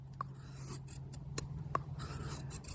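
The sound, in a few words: small bushcraft knife cutting wood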